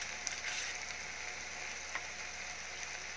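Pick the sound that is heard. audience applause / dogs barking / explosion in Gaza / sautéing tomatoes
sautéing tomatoes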